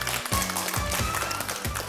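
Audience applause at a village song-and-performance show in Zur Sardek, Kukmor district; steady broad clapping fills the whole stretch, with a few heavier thumps recurring underneath.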